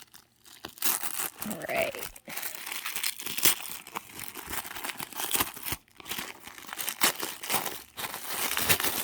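Tissue paper crinkling and rustling close up as a package is unwrapped, in repeated bursts of crisp crackling with a brief spoken word near the start.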